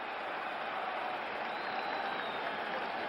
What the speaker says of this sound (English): the crowd coming to life here at the stadium